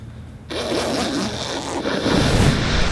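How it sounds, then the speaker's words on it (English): A zipper sound effect used for cinematic B-roll: after a short quiet moment, a close, continuous ripping zip runs on for over two seconds and grows slightly louder toward the end. "What I did was actually just like it sounds, zipper sound."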